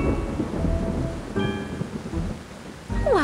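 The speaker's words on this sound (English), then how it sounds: "You better hurry before this storm destroys my humble home." Thunder rumbles over steady heavy rain in a 1999 classic Mac educational game, The Cluefinders 5th Grade Adventures, a continuous loud storm wash with no talk.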